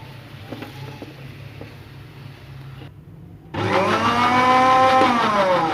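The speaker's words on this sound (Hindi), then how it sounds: "पानी के बाद हम ब्लेंडर को चलाते हैं" A kitchen blender roars to life after a brief pause, blending raw mango and mint chutney, whirring loudly and steadily with a rising motor whine, following quieter background hum.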